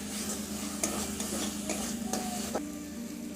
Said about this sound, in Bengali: হালকা একটু ভেজে নেব।